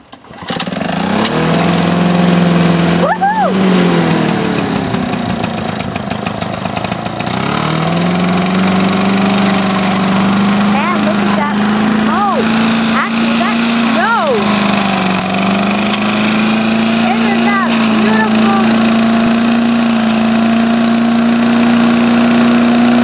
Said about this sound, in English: to test out his new snowblower